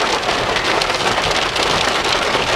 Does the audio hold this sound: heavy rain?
yes